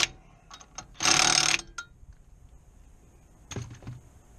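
A ratchet tightens wheel bolts, giving quick clicking bursts with one longer rasping run, then a final short burst, close and fairly quiet.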